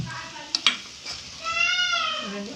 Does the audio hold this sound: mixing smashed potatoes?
yes